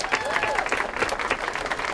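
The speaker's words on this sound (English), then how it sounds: "Let's give them a round of applause." Crowd applause at a children's park playscape grand opening, a dense steady patter of many hands clapping outdoors, with a faint voice or cheer mixed in.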